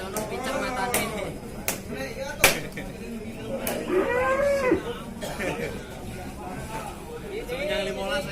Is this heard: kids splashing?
no